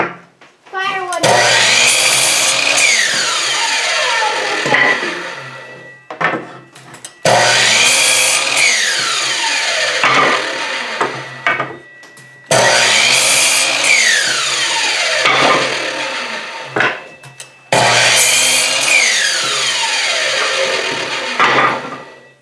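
Chicago Electric 10-inch miter saw cutting wood scraps, four loud whining cuts in steady succession, each spinning up and biting through with a falling pitch, brief pauses between, a voice faintly nearby.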